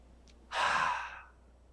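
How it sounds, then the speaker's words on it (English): One deep, slow breath through the nose, a single airy rush lasting under a second, heard close and alone in a quiet room. "we should do deep breathing like this"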